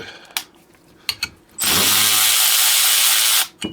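A Ryobi USB lithium 1/4-inch cordless ratchet runs on high speed for about two seconds, a loud, steady whirring motor burst preceded by a few sharp clicks and handling knocks.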